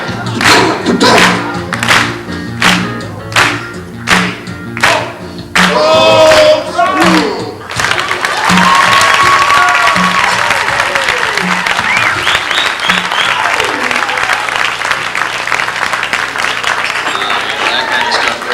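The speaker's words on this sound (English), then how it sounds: "put your hands together, it's time to clap" Audience at a bar association follies show claps along in a strict rhythmic beat for several seconds, then breaks into sustained, loud applause and cheering that carries to the end.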